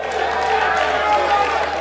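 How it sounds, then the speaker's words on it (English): A crowd at a 30th anniversary reunion dinner applauds for Mr. Alfred Diobo, giving steady, dense clapping and some cheering that holds for a couple of seconds. "Please, a round of applause for Mr. Alfred."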